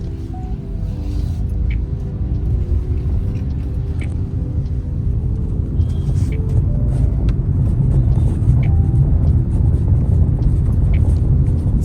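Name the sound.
automatic car driving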